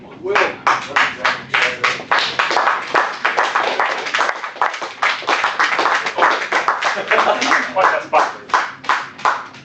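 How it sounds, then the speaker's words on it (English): An audience at a Toastmasters meeting claps steadily and fairly close, with sharp, quick hand claps blending into continuous applause for nearly ten seconds and no speech. "One thing you notice in our meetings is that we clap a lot."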